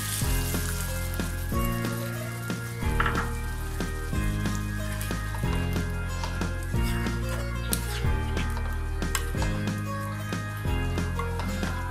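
Coconut milk simmers and sizzles loudly in a pan of prawn malai curry with green chillies, a dense continuous crackle close up, with rhythmic low thumps underneath throughout.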